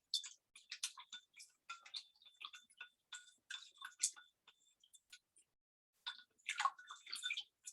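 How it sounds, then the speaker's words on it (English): Spoon stirring white paint into a container of water, heard as quiet, irregular clinking and ticking taps that come in bursts with short pauses, close by and alone. "Okay, I'm going to stir that up."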